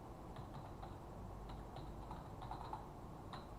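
Light typing on a computer keyboard, faint and close, with scattered irregular clusters of soft key taps over a quiet background hiss.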